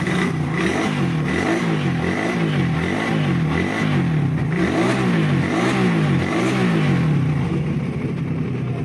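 A 2020-model car engine revs repeatedly in rising and falling surges, loud and close, with a steady rumble between each push of the throttle.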